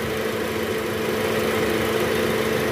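A car engine idling with its belt-driven water pump whirring along with engine speed, a steady close mechanical drone with a constant hum throughout.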